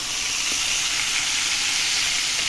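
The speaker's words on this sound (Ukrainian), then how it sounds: "Жариться моя пахуча риба, бутерброди на сухій сковорідці." Loud, constant sizzling hiss of capelin frying in a pan, steady and close with no voices.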